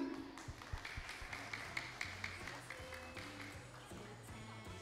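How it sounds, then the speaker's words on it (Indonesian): At a Christmas Eve church service, the congregation claps in a quiet patter of scattered hands over background music and low thumps. "Yeay, tepuk tangan."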